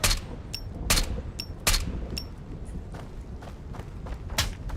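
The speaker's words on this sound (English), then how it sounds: "Did he just shoot suppressed at me?" Suppressed gunfire in the shooter game Road to Vostok: several sharp, muffled shots come at irregular intervals, with soft footsteps and thuds between them. There are no voices.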